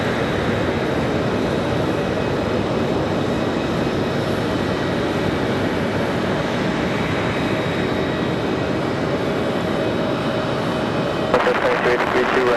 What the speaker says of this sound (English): Another nice smooth touchdown